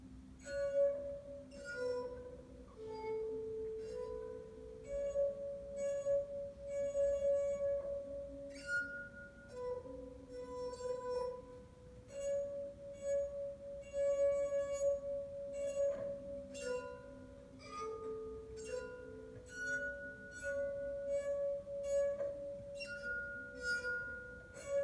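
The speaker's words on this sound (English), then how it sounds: "So I'm gonna try to play a song on our musical glasses" Musical glasses tuned as a scale play the simple nursery melody Mary Had a Little Lamb, each clear ringing glass tone struck one after another in steady rhythm, close and alone with no talking.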